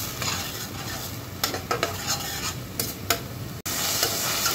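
Onion and garlic paste sizzles in a little oil in a pan for a koi fish kalia, with a steady fry hiss and a spoon scraping and stirring in several sharp strokes up close.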